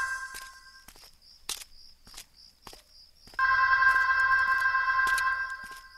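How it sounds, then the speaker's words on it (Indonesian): A telephone rings in a school staff room as part of a horror radio drama, its tone growing suddenly louder and continuous after slow footsteps approach through a quiet space. "Semakin dekat dengan ruang guru, dering telepon itu semakin jelas."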